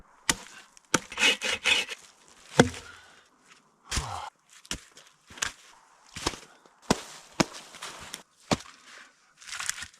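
Firewood is gathered and handled at a camp at twilight: sharp, close wooden clacks and knocks come in irregular bursts, with brief rustles and scrapes between them.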